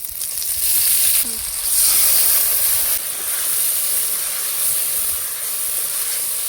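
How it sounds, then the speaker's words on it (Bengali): Potatoes, rice and spices sizzle and fry in hot oil alongside fish pieces for a Bengali katla curry, a steady close hiss throughout with a brief stirring scrape near the start. "আলু দিয়ে ভালো করে ভাজা হলে চাল দিয়ে আর মশলা দিয়ে ভাজো।"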